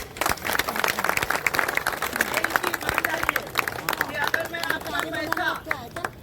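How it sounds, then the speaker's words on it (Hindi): A meeting audience at a housing society claps unevenly, scattered hand claps mixed with crowd murmur and voices talking over the noise. "इस बात के लिए आप सभी को ताली दे रहे हैं"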